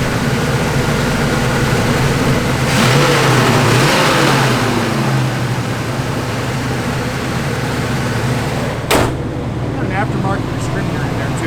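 A 1974 Pontiac Firebird Formula 455 V8 with an aftermarket distributor rumbles loudly and steadily up close, with a brief sharp knock near the end.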